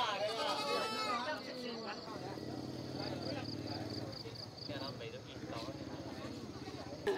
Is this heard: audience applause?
no